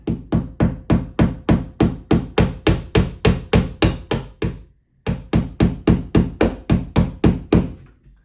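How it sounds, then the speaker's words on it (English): A hammer strikes in a steady rhythm while mounting a studless TV wall mount, about twenty sharp blows in two runs split by a short pause, loud and close. "now I'm going to grab my hammer"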